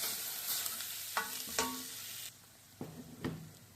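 Onions with chili and coriander powder sautéing in a pan for a fish salna, a steady close sizzle broken by several sharp stirring scrapes.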